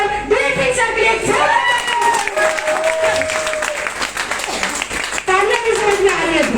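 A loud audience at an IMC business achievers' celebration claps vigorously, with cheering and shouting voices rising over dense applause throughout.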